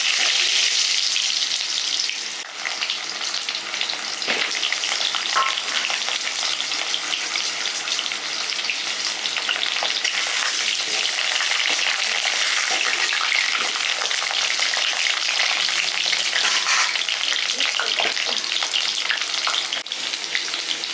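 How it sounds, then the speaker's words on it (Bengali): Potatoes frying in a wok on a stove for a country chicken curry, a loud, dense, continuous sizzle and hiss, close and steady throughout with faint stirring, no voices. "তো আগে আলুগুলো ভেজে নিচ্ছি"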